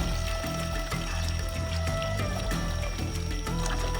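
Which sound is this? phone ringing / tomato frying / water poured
water poured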